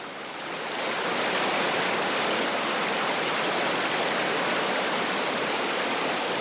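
Water flows out of forest soil in a dense, even rush that swells in over the first second and then holds loud and unbroken.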